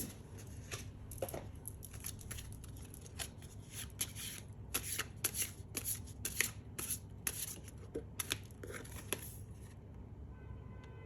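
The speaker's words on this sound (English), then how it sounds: "Let's shuffle some more oracle cards." Crisp riffling and flicking of oracle cards being shuffled repeatedly in quick bursts, close up, with brief pauses between shuffles.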